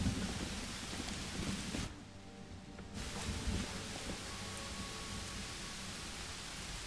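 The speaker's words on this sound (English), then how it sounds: "Gotta love this blood rain of the World Wound, though, eh?" Blood rain falls over the World Wound in the Pathfinder: Wrath of the Righteous video game, a steady hiss of heavy rain with a low rumble beneath and a brief dip in the downpour partway through.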